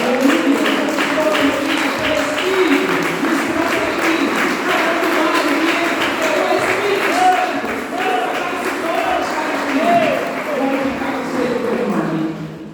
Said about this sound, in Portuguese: mais uma vez aplauda aí